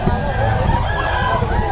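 Gamefowl roosters of Sweater and yellow-legged hatch breeds crow in a busy yard, a short drawn-out crow heard amid background voices and flock noise.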